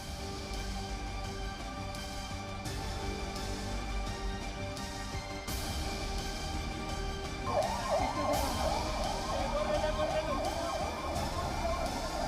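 An ambulance siren at a building collapse rescue in Lucknow rises partway through, wailing steadily and fairly loud over traffic noise and a murmur of voices.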